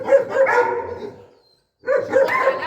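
A dog in attack training, agitated by a wooden stick thrown in front of it, barks in loud, close rapid bursts, pauses briefly, then breaks into another run of barks.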